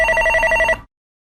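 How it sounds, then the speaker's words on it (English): Telephone bell ringing in a rapid rattling burst that lasts under a second and then stops abruptly, loud and close with no voices. "Norma Folly picked up the phone."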